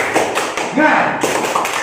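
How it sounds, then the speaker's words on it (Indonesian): A classroom group performs a tepuk semangat cheer, with a handful of sharp, rhythmic claps in quick succession and voices chanting along between the beats. "Tepuk semangat."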